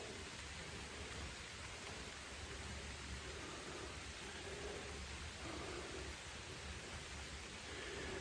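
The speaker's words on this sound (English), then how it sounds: "It's lightly raining, but the tree canopy is keeping that off of me." Soft, steady light rain pattering on a tree canopy overhead in a Pennsylvania forest, a continuous hiss with no other distinct sounds.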